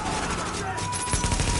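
Close gunfire in The Division video game comes as a short rapid burst of shots over ongoing game noise, with a voice speaking.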